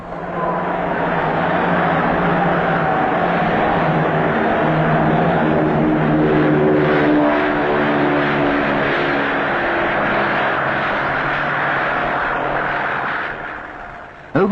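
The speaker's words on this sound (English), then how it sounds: "A Shackleton will reconnoiter the area." A steady, droning Shackleton patrol aircraft propeller engine holds a constant loud roar throughout, then fades slightly near the end.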